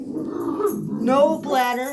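A dog growls low and lets out high, whining whimpers, close by and mixed with a person talking over it.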